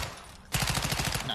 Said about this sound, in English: Somebody shooting at you, bro.